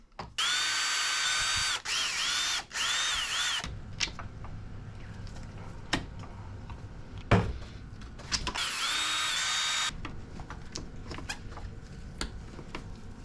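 Power driver running 2.0 screws into an aluminium shock tower on a Kraton 6S RC car, two whining bursts of several seconds each separated by quieter clicks and handling taps, close up.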